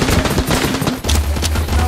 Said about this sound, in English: with the op gun, I can just continue shooting